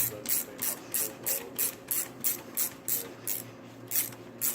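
Condenser re-rolling tool turned and tightened onto a tube, giving a steady series of about a dozen evenly spaced ratcheting clicks, close and clear, with no talking.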